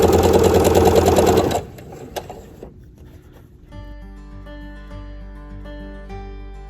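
A sewing machine chain-stitches pairs of hexagon quilt pieces, running loud and fast at first, then stopping; quieter clicks and handling follow before a soft steady hum resumes.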